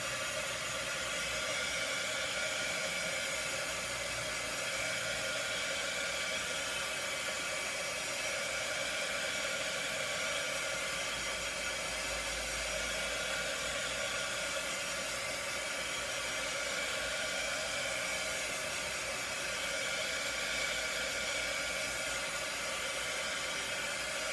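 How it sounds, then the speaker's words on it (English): A heat tool blows steadily to dry paint on an owl-shaped craft piece, giving a continuous, even hiss and whir for the whole stretch with no talking. "so then I'm going to use my heat tool again and get him dry."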